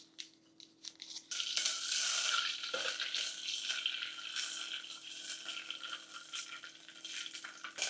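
Oil and butter sizzle and crackle steadily in a pressure cooker on a stovetop, beginning faint and quickly swelling into a loud, continuous hiss close by, with no talking.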